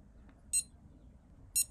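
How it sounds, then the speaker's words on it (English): Alarm on a 1986 Casio SW-100 digital watch sounding two short, high electronic beeps about a second apart, faint and alone against a quiet room. "I can just put the alarm on for you."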